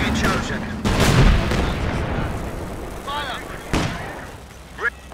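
Artillery fire in a 4v4 Company of Heroes 2 match: loud booming cannon shots and explosions rumbling close, with radio-style unit voice lines sounding in between.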